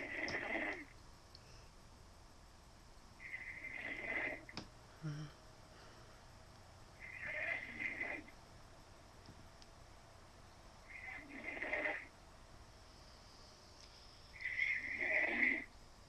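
A person snores faintly in a slow, regular rhythm, four or five rasping breaths spaced a few seconds apart, heard at a distance through a phone speaker.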